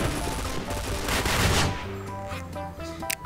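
Rapid automatic gunfire in the Point Blank video game, dense loud bursts of shots packed together, then tapering into scattered shots with electronic game sounds.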